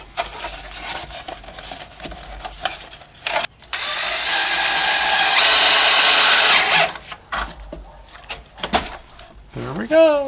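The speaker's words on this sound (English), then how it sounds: "What I want to do is just route the stud down so that it fits in without making a lump in the wall" A router cuts down a wooden wall stud in a salvaged mobile home, a loud whining burst of a few seconds between quieter handling noises and knocks, with someone speaking near the end.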